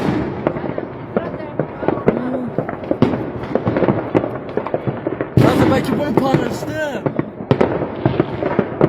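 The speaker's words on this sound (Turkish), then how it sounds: "Bir şey patladı. Havai fişeği oldu." Fireworks bursting outdoors, a rapid string of sharp cracks and pops with a louder cluster of bangs partway through, loud and close, while someone talks and reacts over them.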